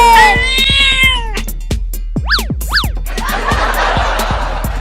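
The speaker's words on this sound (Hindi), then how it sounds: "अब देखो ये दोनों बिल्लियां कितनी गुस्से में हैं" Two cats yowl and meow angrily in drawn-out, rising cries, loud and close, followed by hissing and scuffling noise.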